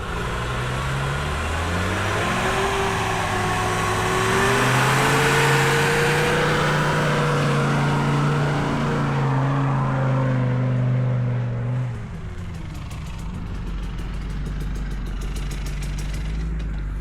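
A car engine revs hard as it climbs a very steep, near-vertical slope, a loud, steady drone whose pitch rises and wavers for about twelve seconds before cutting off abruptly, leaving a low rumble.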